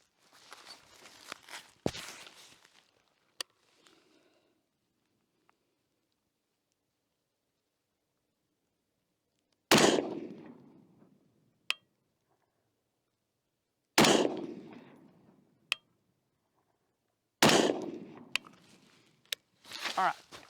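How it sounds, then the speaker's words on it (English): Gunshots fired at a cardboard target while zeroing a rifle optic outdoors: sharp, loud single reports spaced several seconds apart, each with a short decaying tail, following an opening burst of handling noise and a long quiet gap. "now I'm going to start aiming at the cardboard, take some shots"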